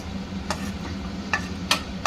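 Cashews roast in ghee in a pan with a soft, low sizzle, punctuated by four or five sharp spoon scrapes and taps against the pan, close by and with no voices.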